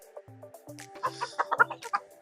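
Chickens on a small bird farm cluck close by in a quick, uneven series of short calls, loud and alone.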